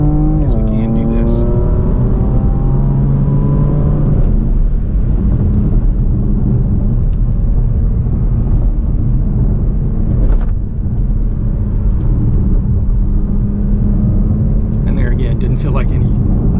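A 2018 Porsche Macan GTS engine rises in pitch over the first few seconds as it accelerates past a slower vehicle, then settles into a steady, loud cabin drone with road noise.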